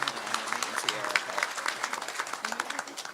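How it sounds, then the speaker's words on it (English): Audience at a State of the City event applauds city staff with dense, steady clapping throughout, mixed with crowd murmur and a few voices underneath. "Let's give them a round of applause."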